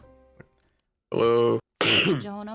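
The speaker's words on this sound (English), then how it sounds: "see I coughed" A sharp throat-clearing cough sounds close and loud, a short rough burst followed by a second harsher cough, with someone speaking briefly before and after.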